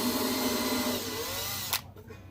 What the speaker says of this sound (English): I love taking a drill to an instrument built in 1966.